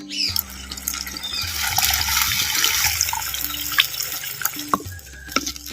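Tamarind water pours into a clay pot for amla rasam, a steady close splashing trickle of liquid with a few small drips and clinks near the end.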